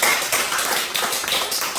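Congregation clapping at a Korean church revival meeting, a dense, loud, continuous patter of many hands filling the whole short stretch, close and steady with no voice over it.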